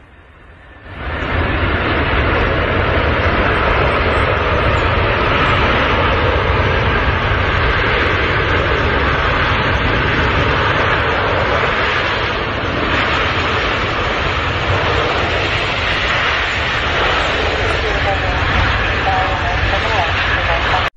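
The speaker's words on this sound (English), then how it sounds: "this heaviest airplane powered by six turbofan engines" A heavy six-engine turbofan airplane rises in from near silence to a loud, sustained roar that holds steady for the rest of the clip, with a voice talking over it.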